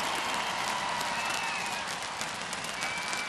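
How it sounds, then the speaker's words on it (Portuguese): A gymnastics arena audience applauds Brazilian gymnast Daiane dos Santos after her floor exercise routine in Natal, Brazil, a dense, steady wash of clapping and crowd noise held at a constant level throughout. "Muito aplaudida, Daiane."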